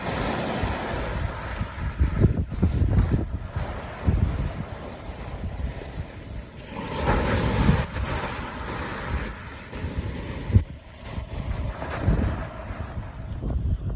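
Strong wind buffets the microphone on a stormy UK beach while waves rumble and wash ashore, a loud continuous roar that swells and eases, with no voices.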